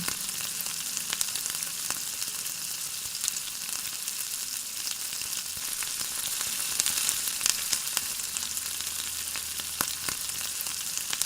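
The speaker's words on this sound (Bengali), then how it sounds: "পাউরুটিগুলো আমি ডিমের গোলাতে চুবিয়ে ভেজে তুলে নেব।" Continuous gentle sizzling of egg-dipped bread slices frying in oil, a soft steady hiss with faint pops and crackles throughout, no talking.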